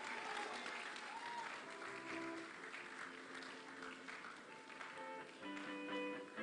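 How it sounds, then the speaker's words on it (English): Sustained applause from an audience at a business and career expo, steady and dense clapping filling the room for several seconds, with faint tonal background sounds underneath. "Please keep clapping, she comes up."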